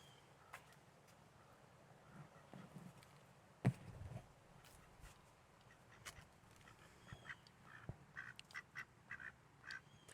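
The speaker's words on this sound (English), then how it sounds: "hear the duck?" Duck quacks in a home setting with a cat nearby, short nasal calls scattered irregularly over a soft background, mostly faint with one louder burst near the middle.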